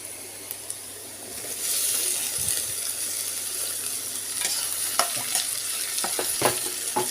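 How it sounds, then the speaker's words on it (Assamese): Chopped tomatoes hit a pan of browned onions and fry with a rising sizzle, while a spatula stirs and scrapes in sharp clicks near the end, close and moderately loud, while cooking rajma masala. "এতিয়া ইয়াত মই বিলাহী দি দিম।"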